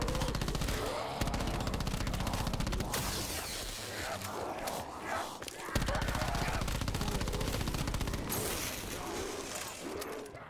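Rapid automatic gunfire in Black Ops 4 Zombies, loud, dense bursts of shots broken by brief pauses, with the game's ambient clatter mixed in.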